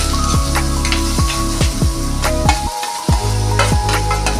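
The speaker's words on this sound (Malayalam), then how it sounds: "സവാളയും തക്കാളിയും കൂടി ഇങ്ങനെ വറണ്ട് വരികയാണ്." Onions and tomatoes sauté in a hot pan as the base for a fish curry, giving a steady, close sizzle broken by repeated stirring scrapes and one short pause, with no talking.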